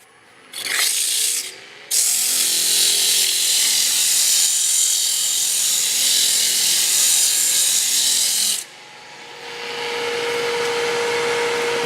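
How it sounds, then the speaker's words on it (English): 80-grit sandpaper is pressed against wood spinning on a lathe, giving a loud, steady abrasive rasp for several seconds. The lathe's motor hums alone before and after the sanding. "now what I'm going to do is sand it. So I'm first going to start off with some 80 grit"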